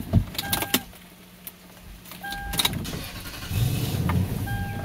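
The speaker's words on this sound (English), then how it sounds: "So the engine's turning over." A car engine cranks after the key is turned but fails to start, with clicks and short bursts of starter noise broken by pauses, heard up close.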